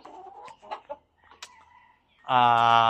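Backyard chickens clucking close by, a few short scattered clucks followed by a loud sustained call at the end, with no talking.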